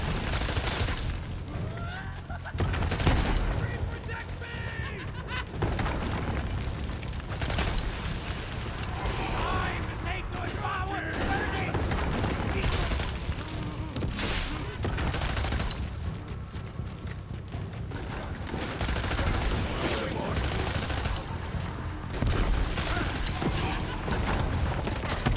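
Gunfire in Borderlands 3, with dense bursts of shots and booms repeating through a long, loud stretch of chaotic combat.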